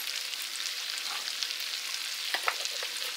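Aromatics in hot oil in a pan, a soft, steady crackling sizzle with faint pops and a couple of small stirring knocks, close and quiet, no voices.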